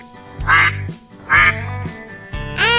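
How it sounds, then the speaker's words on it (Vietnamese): A duck quacks three times in loud, close bursts, each call a rasping nasal honk separated by short pauses, with no talking. "em biết con này là con vịt tại vì nó kêu cạp cạp cạp cạp"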